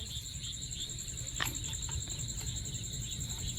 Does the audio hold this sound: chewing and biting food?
no